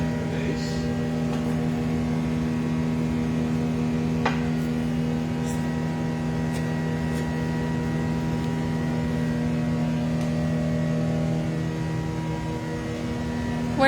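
A glass furnace roars steadily while heating a blown blue cone vase, a constant close, loud rush with a low hum and a few faint ticks, and no voices.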